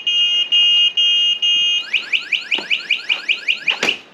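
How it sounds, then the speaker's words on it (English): An anti-theft alarm on a DYU A1F Pro folding e-bike sounds loudly and close by: a few long steady electronic tones give way to a fast run of rising, chirping whoops, with no talk over it. "It's got an alarm, it's fully alarmed."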